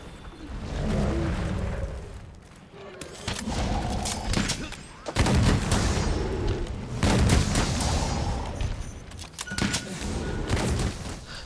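Tempered Blitz Shot light bowgun from Monster Hunter World firing bursts: loud booming blasts and thudding impacts in clustered volleys separated by short gaps, with battle noise between.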